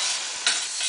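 Onions frying in a pan until soft and transparent, a steady broadband sizzle that runs the whole time with one brief louder burst partway through, close and with no voices.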